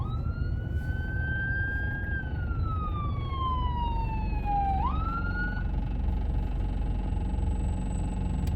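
A police siren wails in a long descending sweep, then rises briefly and cuts off, leaving a steady high tone over constant road rumble.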